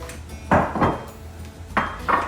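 A metal pan is set down and shifted on a kitchen stovetop, giving four distinct clanks in two close pairs, loud and near, with no speech.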